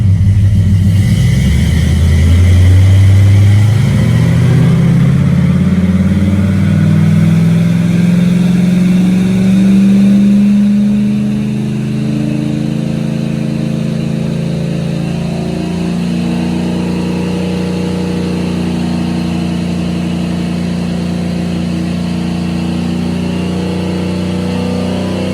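A car engine fitted with Holley Sniper fuel injection makes a loud sustained pull, pitch climbing steadily as it revs up over several seconds and then holding a steady high drone, with no talking.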